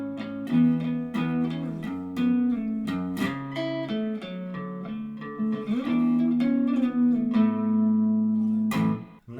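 A guitar plays a steady melody with low bass notes ringing underneath, plucked notes following one another in an even rhythm, close and clear.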